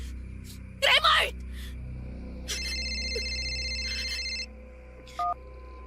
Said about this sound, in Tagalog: Narinig kong nag-ring yung cellphone mo dito sa sala.